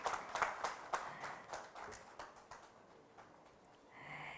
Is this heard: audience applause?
yes